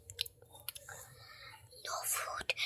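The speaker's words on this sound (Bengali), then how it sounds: "এর জন্য আমি বিরিয়ানি খাচ্ছি।" Chewing on a mouthful of biryani, soft wet mouth sounds in quick irregular bursts, close and faint, with some whispery breath noise.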